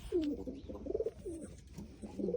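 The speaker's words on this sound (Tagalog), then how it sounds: "mga pigeon sa" Pigeons coo softly from close by in a series of low, throaty, rolling calls that repeat over a couple of seconds against a quiet background.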